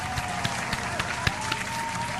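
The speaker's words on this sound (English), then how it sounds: "Let's clap it up for him." Applause from a small group: a scattered, continuous patter of hand claps with a few sharper, louder claps standing out, steady and moderately close.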